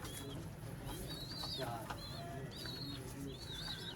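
Rooftop pigeons in Sialkot coo softly in short repeated phrases, with light chirps and a flutter of wings beneath a steady hum of background noise.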